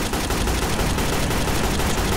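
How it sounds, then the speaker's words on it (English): Loud, rapid gunfire from the video game Garry's Mod DarkRP crackles without a break for two seconds, shots packed closely into a dense barrage heard up close, with no voices. "why are you shooting me?"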